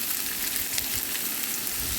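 Carrot and potato pieces frying in a pan for a carrot stir-fry, a steady loud hiss and crackle of hot oil throughout with faint stirring scrapes underneath.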